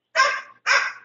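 Dogs barking at a fence, two sharp loud barks in quick succession, close and clear with no talk over them.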